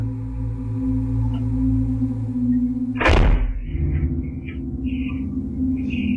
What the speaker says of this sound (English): What's going on with this door?